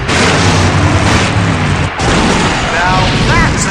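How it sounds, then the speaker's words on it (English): A loud, sustained explosion roars in the Full Throttle adventure game, a dense, booming blast that fills the moment, briefly dips, then surges again with a faint voice-like tone near the end. "Now that's an explosion, ladies and gentlemen."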